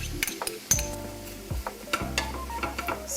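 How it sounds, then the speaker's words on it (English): A spoon scrapes and stirs sliced onions with seasonings, mushroom powder and vegan Worcestershire sauce in a pan, the soft sizzle broken by clinks of utensil against metal, close and moderately loud. "Stir until they're well combined."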